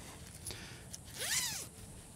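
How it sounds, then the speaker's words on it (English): A zipper is drawn along the bug net of a camping hammock in one quick, close pull, a short rising scratchy rasp over quiet background noise. "it's got two zippers here and they will zip all the way from one end to the other"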